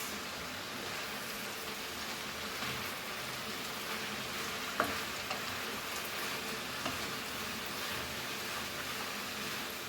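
Spinach and red amaranth leaves stir-fry in a pan, making a soft continuous hiss like light rain with a faint clink partway through and no talk.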